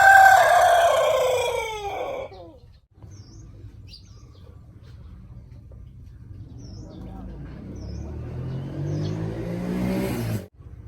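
A white-eared spurless rooster crows once, loud and close, its call trailing downward. Quieter background follows, then a vehicle approaches and swells toward the end.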